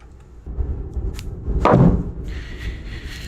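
An impact drill driving lag screws into wood: a heavy, loud driving burst with a thudding impact around the middle, steady grinding noise throughout, then a high whine near the end.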